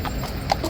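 Police horse hooves clop on pavement near Horse Guards in London, a few quick hard strikes in under a second over steady outdoor background noise.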